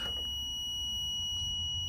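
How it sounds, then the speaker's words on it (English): A steady, continuous electronic beep tone from a multimeter continuity test holds throughout, with low rumbling background noise underneath. "if you touch the 2 prongs, it should beep"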